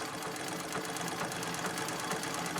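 Sewing machine stitching quilt fabric, a fast, even mechanical whir that holds steady and fairly quiet throughout with no pauses or talk.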